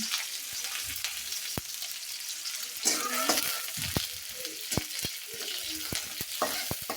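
Onions and green chillies fry steadily in a pan on a gas stove, a continuous close sizzle broken by stirring scrapes and occasional soft clicks.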